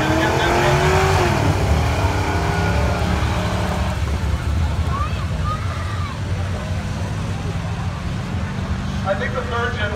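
Old hooptie cars, including a third-generation Firebird and a Blazer, drag racing at a zip-tie drag strip event, with loud continuous engine roar and revving throughout, sliding tones early on, plus crowd noise and talk.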